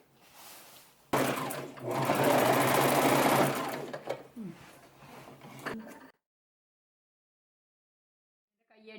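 Sewing machine stitching a salwar top, running in one loud sustained burst of about five seconds with a brief stop and restart before falling silent.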